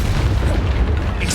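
A Confringo blasting spell erupts in a Harry Potter video game: a single deep, loud booming explosion that rumbles heavily for over a second.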